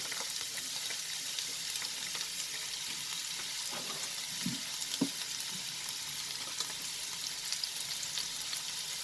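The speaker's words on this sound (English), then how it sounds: "Once the oil gets heated, we will add the chopped onions." Chopped onions and green chilies sauté in hot oil over high flame for chicken potato cutlets, giving a steady, even sizzle with a few soft stirring knocks, close and alone.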